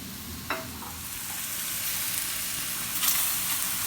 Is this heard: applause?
no